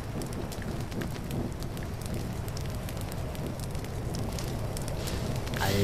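Steady crackling fire burning thorn bushes in The Legend of Zelda: Breath of the Wild, with sharp snapping pops throughout and a louder flare at the end, no voice.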